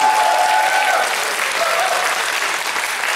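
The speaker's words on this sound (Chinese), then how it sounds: "我们给他们一个最大的掌声，好不好？" A church congregation applauds for four people being baptised at a Sunday service, a dense, loud burst of clapping from a full room that fades slightly but keeps going throughout.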